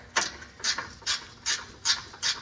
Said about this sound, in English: Use a little gear wrench. Makes things faster.